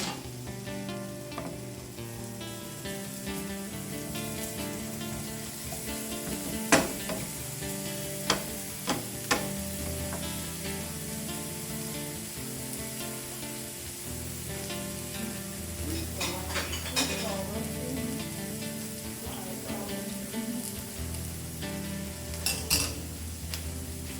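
Garlic sizzles in a hot pan for an Alfredo white sauce, a steady bright frying hiss with occasional clinks and scrapes of a utensil stirring against the pan.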